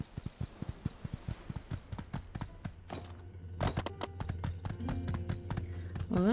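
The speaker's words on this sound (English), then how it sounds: "Let's go, horse!" Rhythmic horse hoofbeats clip-clop in a quick steady pattern, then give way to a sustained hum and rising tones, like game audio, from the video game My Time at Sandrock.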